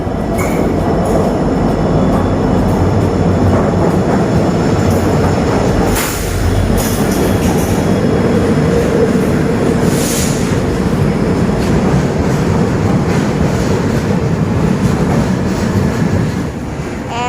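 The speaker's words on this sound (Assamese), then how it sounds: "ট্ৰেইন আহিলে" A train rumbles steadily close by, a dense continuous roar with rattling and occasional brief high squeals from the wheels, no voices.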